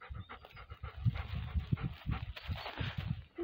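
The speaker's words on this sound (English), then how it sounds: "That's my dog, you are here." A dog pants close by indoors in rapid, rhythmic breaths with soft thuds, fairly quiet and alone without talk.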